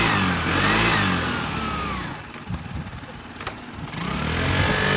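A 2009 Vespa S150 motor scooter engine revs loudly up close, then the scooter pulls away and the sound drops, before the engine note swells again near the end.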